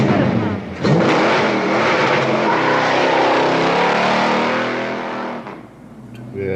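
The General Lee stunt car from the TV show revs its engine in one loud, sustained roar lasting several seconds, with voices talking over it.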